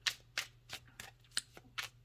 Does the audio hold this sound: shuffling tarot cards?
yes